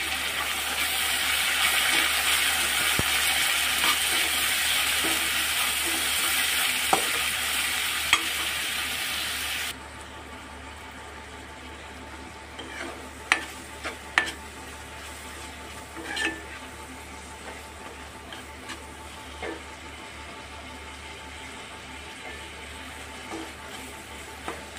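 Tomatoes and a medium onion frying and being stirred in a pan for a soybean chunk and egg curry, with a loud steady sizzle that drops to a quieter crackle partway through, broken by scattered scraping and stirring clicks.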